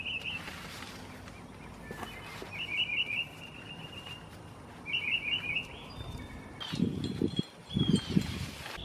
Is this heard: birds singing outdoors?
yes